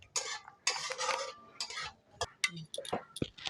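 Bay leaves and asafoetida are stirred into hot oil in a pan, giving close scraping and clinking spoon strokes in short irregular bursts with light sizzling between them.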